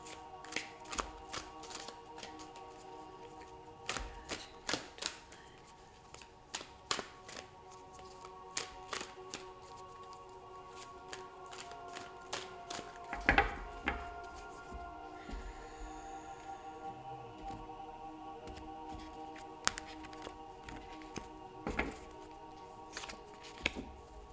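Tarot cards shuffled and tapped by hand in a quiet room, with a run of crisp, irregular clicks and flicks, some sharper snaps among softer riffling.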